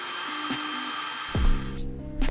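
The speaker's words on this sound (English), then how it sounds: "So now we're going to remove the blow dryer." A blow dryer whirs steadily while drying a pixie cut, a constant airy hum that cuts off partway through, followed by a nearby thump and clatter as it is handled.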